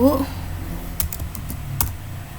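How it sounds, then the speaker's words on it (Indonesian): Computer keyboard typing during a data analysis tutorial, a few sharp clicks spaced over about two seconds, with faint talk at the start. "Kita sekalian ketik X1."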